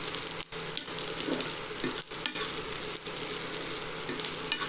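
Garlic, onion and curry leaves tempering in a hot pan, a steady close sizzle with occasional stirring scrapes and clicks, no voices.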